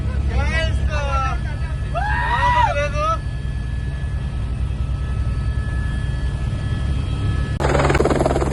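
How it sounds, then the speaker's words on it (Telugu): A high-speed helicopter ride over Araku: a loud, steady rotor and engine drone fills the whole clip, with people talking over it near the start and a brief louder burst at the end. "high speed helicopter riding in sky"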